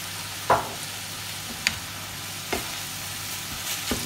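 Onions frying in a pan for moussaka, a steady close sizzle with a few distinct stirring scrapes and clicks spaced about a second apart, no talk.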